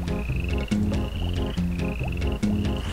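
Frogs croaking inside the video game RuneScape: repeated game-style croaks with a steady high chirping tone over a busy looping background, loud and continuous with no talk.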